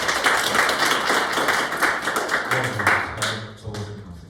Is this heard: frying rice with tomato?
no